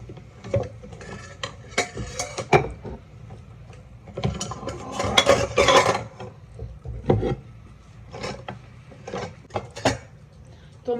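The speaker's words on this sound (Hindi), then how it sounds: "तो मैंने ये अपने गंदे बर्तन एक बास्केट में कर लिए हैं" Dirty dishes are loaded into a basket in a dorm room, giving irregular bursts of clattering and scraping, some loud and close, separated by quieter pauses.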